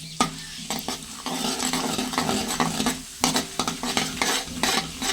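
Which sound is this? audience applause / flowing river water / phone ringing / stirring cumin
stirring cumin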